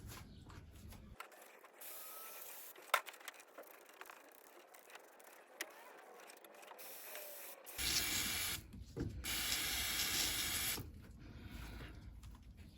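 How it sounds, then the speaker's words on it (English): Brake cleaner is sprayed onto car battery connections in short bursts, hissing loudly up close for a few seconds at a time, with quieter handling and rattling noises between the sprays and no talking. "give it a spray down with some brake cleaner and just a light wire brush off"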